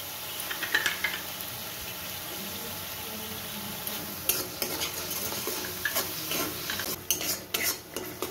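Tomato paste is stirred in a cooking pan while a fish mustard curry is being made. A spoon scrapes and clatters in soft bursts over a quiet sizzle, and the strokes grow busier toward the end. No one talks.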